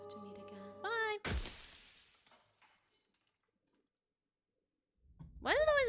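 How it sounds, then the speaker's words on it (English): A sharp shattering-glass sound effect in a video game crashes loudly after a brief tonal chime, its crunchy tail fading into silence, then a rising electronic tone swells up at the end. "Why does it always make broken glass sound?"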